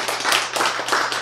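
A lecture audience claps briefly on cue, a short burst of rhythmic, fairly close hand clapping lasting about a second.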